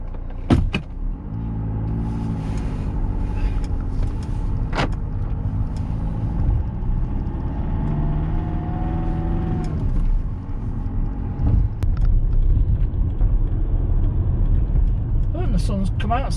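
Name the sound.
2009 Mercedes-Benz W204 C200 driving on test drive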